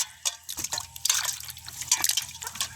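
Unripe papaya being washed by hand in water, with close splashing, dripping and sloshing in irregular bursts and no talking.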